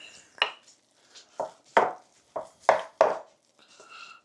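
A spoon stirs a sweet potato casserole mixture in a dish, making about ten sharp, close clacks and scrapes at irregular intervals, with quiet gaps between them.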